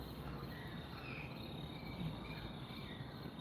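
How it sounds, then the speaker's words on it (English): Dense, continuous chirping of crickets fills the night air at a steady, even level, with no voices. "Could you hear the crickets?"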